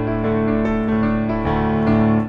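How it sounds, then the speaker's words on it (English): Piano playing an arpeggiated riff, three notes repeated in steady eighth notes over sustained low chords, close and fairly loud with no talking. "Basically just sounds like they're riffing on an arpeggio"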